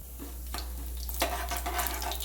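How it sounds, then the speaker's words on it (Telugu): Cumin seeds dropped into well-heated oil in a pan burst into a close, hissing sizzle that swells after a short quiet start and keeps crackling steadily. "ఆయిల్ బాగా వేడెక్కింది కదండి ఇప్పుడు జీలకర్ర వేసుకోవాలి"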